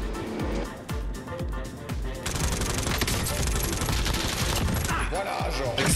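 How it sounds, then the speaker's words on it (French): Gunfire in Call of Duty Warzone, a battle-royale shooter: bursts of automatic fire and sharp shots, loud and close at times, with someone talking over much of it. "Les tirs, pourtant, ils étaient en face de moi, gros."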